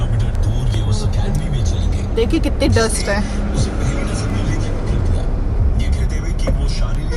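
Car interior during a drive on a dusty road near construction work: a constant low engine and road rumble fills the cabin while people talk over it.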